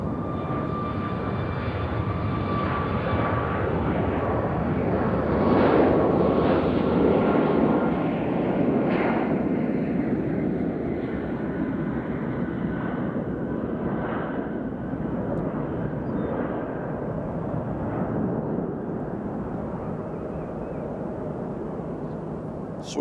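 Swoop airliner at Nashville International Airport, a loud, steady jet engine roar that swells briefly and then holds, sustained broadband rumble with a faint whine, no talk.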